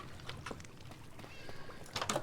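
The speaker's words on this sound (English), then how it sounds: "Cats everywhere to keep creepers away." A Minecraft cat gives a short meow and a couple of softer mews, quiet and fairly close in a game scene without talk.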